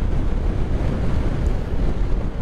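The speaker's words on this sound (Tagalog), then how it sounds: "ang lakas ng hangin" Strong wind roars steadily against the microphone on a motorcycle ride, a dense low rumble with no pauses and no voices.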